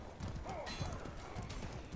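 Horse hooves clip-clop quickly in the video game Mordhau, with a brief whinny-like tone over a steady low background.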